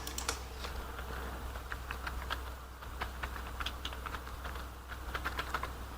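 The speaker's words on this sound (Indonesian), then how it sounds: "Ketik Windows Security seperti berikut." Rapid, irregular clicking of keys on a computer keyboard while a search term is typed, with short pauses between bursts over a constant low electrical hum.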